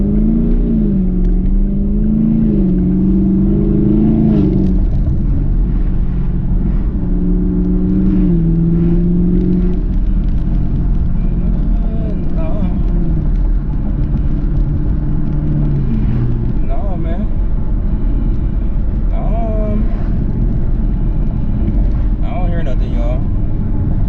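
A 2021 Chevrolet Camaro SS V8 with its NPP exhaust-valve fuse pulled cruises with a continuous low engine drone and a couple of mild rises in revs. Someone talks over it throughout.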